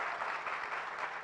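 A crowd applauds steadily at the opening of a newly built public park in Beylikdüzü, Istanbul, with dense, continuous clapping filling the space and no voices standing out.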